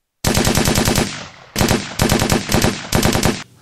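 Machine gun fire in a World War I battle at Vimy Ridge: loud, close rapid bursts of shots, four or five bursts separated by short pauses, with no voices heard.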